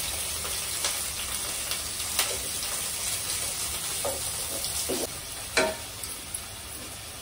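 Two onions and four green chillies, sliced lengthwise, fry in a pan for mutton biryani, a soft, constant sizzle with occasional light clicks of stirring, fairly quiet and with no talking.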